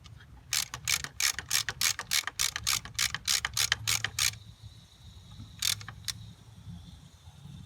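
Wrench ratcheting in quick bursts of sharp clicks while loosening the nuts on the fuel pressure regulator of a 1990 Ford Bronco II, a long run of strokes followed by a brief second burst, close up over a low background hum.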